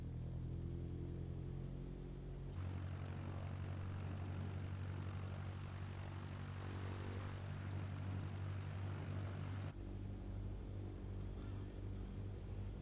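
Cessna 152 piston engine in Microsoft Flight Simulator, taking off from runway 22 at EGAC: a steady propeller drone that swells to a louder, fuller roar after a couple of seconds, then eases back near the end, with no talking.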